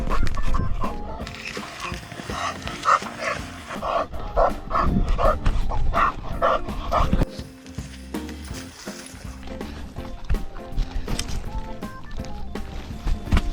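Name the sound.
dog barking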